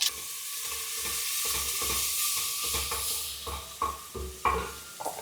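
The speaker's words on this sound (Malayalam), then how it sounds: "എണ്ണ ചൂടാകുമ്പോൾ കുറച്ച് കടുകിട്ട് പൊട്ടിക്കാം" Mustard seeds splutter and pop in hot oil inside a pressure cooker: a close, continuous sizzle broken by a quick series of sharp crackling bursts, with no voices.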